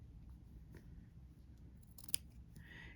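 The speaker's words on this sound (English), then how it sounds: "I've got my scissors on an angle, like, so they're not straight up and down" Scissors held at an angle snip through embroidery fabric for a Hardanger bookmark, quiet and close, with a few faint cuts and one sharp distinct snip near the end.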